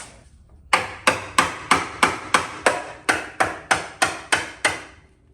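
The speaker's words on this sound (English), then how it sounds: "Now we're gonna lift this up again and start hammering it." Hammer blows strike the spot welds of a Honda Integra radiator support, about a dozen sharp metallic hits at a steady, even rhythm, loud and close with no talking.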